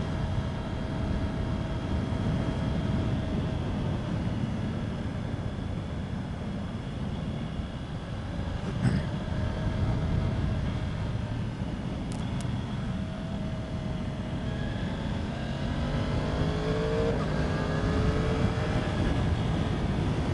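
A 2020 Yamaha R1M motorcycle runs steadily, its engine droning with rising and falling tones through clutchless upshifts and downshifts, plus wind and road noise throughout.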